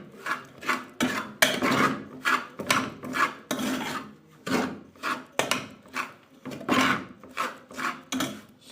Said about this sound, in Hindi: और इसे करेंगे अच्छी तरह से मिक्स हम।